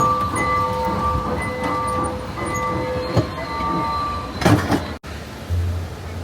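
A small amusement-park ride train rolls along with a steady rumble and rhythmic clicking, and faint tonal whistles and crowd murmur sound in the background.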